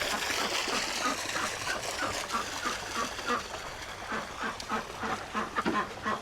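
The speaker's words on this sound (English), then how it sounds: "Sounds like a lot of duck talk in there." Ducks in a farm coop give off a dense, continuous chorus of quacks and chatter at close range, with repeated honking calls overlapping throughout.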